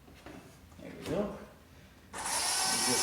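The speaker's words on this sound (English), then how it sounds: "get the old handy drill here" Power drill bores into an arcade cabinet, a brief whine at first and then a loud, steady high-pitched drone in the latter half, with some talk before it starts.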